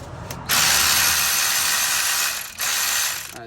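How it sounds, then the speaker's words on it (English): Ratchet with a 14mm socket breaking loose a brake bolt on a 2013-2017 Honda Accord, two fast close bursts of rapid clicking, the first long and the second shorter. "I'm gonna break it loose with a 14mm socket"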